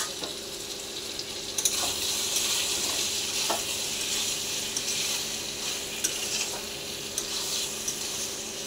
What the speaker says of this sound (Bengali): এবার ঢাকনা খুলে একটু নেড়ে নেব।